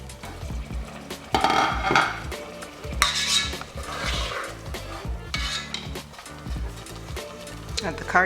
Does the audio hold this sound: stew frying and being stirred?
yes